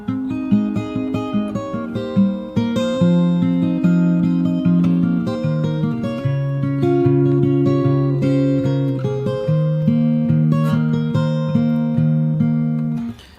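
Fingerstyle acoustic guitar plays the chorus of a song, a steady flow of plucked chords and bass notes that moves through chord changes, loud and close throughout with no talking.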